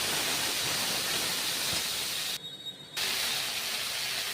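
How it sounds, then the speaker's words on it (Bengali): Pond snails sizzle in a pan of fried spice paste, a steady close hiss filling the whole stretch and dropping out briefly near the middle before resuming. "ওতে আমি গুগলিগুলো দিয়ে দিলাম। ভালো করে গুগলিটা দিয়ে একটু ভালো করে ভেজে নেব।"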